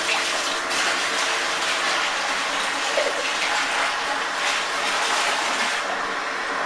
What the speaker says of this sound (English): I'm just going to add the hot water now to this.